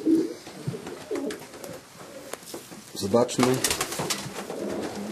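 A Janssen De Klak racing pigeon from the year 2000 coos softly in repeated low phrases, close by, while someone talks in Polish over and between the calls.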